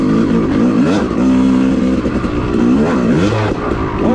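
An off-road motorcycle runs on a trail at Enoree OHV, its engine loud and close. The note droning steadily, then rising and falling as the rider works the throttle, with no talking.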